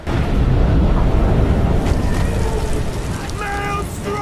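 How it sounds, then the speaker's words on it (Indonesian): Steady loud roar of heavy rain and gusting wind throughout, with faint higher tones surfacing near the end. "badai terjadi, hujan turun, angin kencang"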